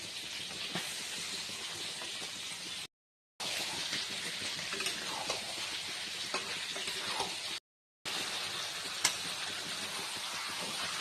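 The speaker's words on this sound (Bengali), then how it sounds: "মশলাটা কষানো হয়ে আসছে, এবার আমি ফুলকপিগুলো দিয়ে দেবো।" Cauliflower and fried potatoes cooking in a spice masala make a continuous bright hissing sizzle, steady and close, with two short breaks of silence and a few faint clinks of stirring.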